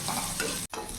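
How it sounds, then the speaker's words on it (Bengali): Chillies and jackfruit seeds frying in hot oil over medium heat, a continuous close sizzle with a short stirring scrape and a momentary break near the end. "এখন 2 থেকে 5 মিনিট আমি একটু ভাজা ভাজা করে নেব,"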